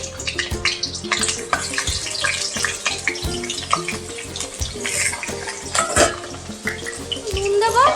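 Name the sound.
potatoes frying in mustard oil in a wok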